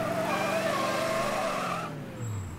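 A car in the Mafia: Definitive Edition video game drives hard with a loud engine and tyres skidding and squealing, then the engine note drops away as it slows.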